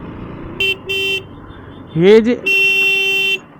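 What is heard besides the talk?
vehicle horn honking on road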